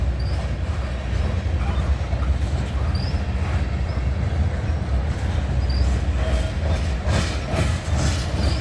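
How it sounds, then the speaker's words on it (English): A CN Rail freight train with mid-train DPUs rolls past nearby, a steady broadband rumble of wheels and cars with a few squeals and clatters throughout. "So this train is going to have two DPUs in the middle"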